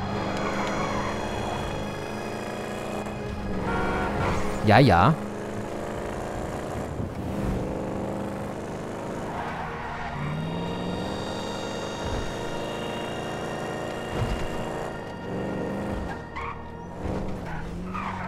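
A car in GTA 5 drives along with a steady engine hum and tyres skidding now and then, set against game music and noise, while someone says a few words.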